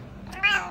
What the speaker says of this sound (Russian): если ты хороший котик, скажи мяу